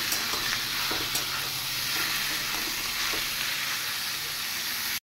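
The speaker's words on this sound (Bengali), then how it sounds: "এবার আমি দেব কুচিয়ে রাখা কাঁচা লঙ্কা। এবার একটু ফ্রাই করে নেব।" Chopped green chillies fry in hot oil in a pan, producing a loud, continuous hiss and crackle that fills the whole stretch evenly before cutting off abruptly at the end.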